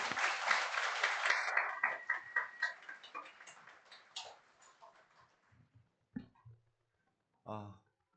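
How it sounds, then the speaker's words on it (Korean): A church congregation at an ordination thanksgiving service claps warmly. The applause fades away over a few seconds, then a voice begins speaking into the quiet room. "여러분 박수로 좀 환영해 주십시오."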